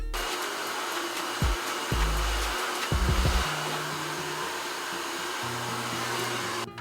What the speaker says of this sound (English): I'll go ahead and just blow dry, you know, everything down, get it all dry in the back